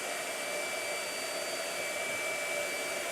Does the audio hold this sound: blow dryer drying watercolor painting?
yes